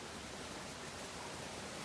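Steady rushing of a creek swollen after a May thunderstorm, beside a trail and a giant oak; a constant, even, noise-like wash of flowing water with no talk.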